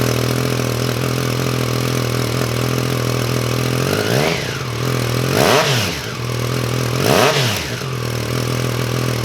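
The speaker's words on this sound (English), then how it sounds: "if you want a bit more grunt in your there's a Scorpion full exhaust system" A Triumph Tiger 660 Sport with a Scorpion full exhaust idles steadily, then gets three sharp revs that rise and fall, each louder than the idle, with no voices.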